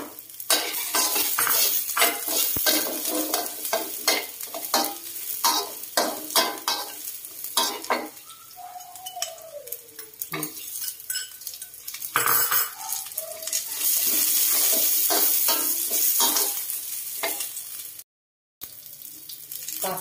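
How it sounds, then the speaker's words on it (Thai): Garlic is stir-fried in a little oil in a pan, with steady sizzling and frequent scraping and clinking of a utensil against the pan, plus a brief tonal squeak midway and a short dropout near the end. "ใส่น้ำมันนิดหน่อยไม่ใส่เยอะนะ แล้วก็ใส่กระเทียม"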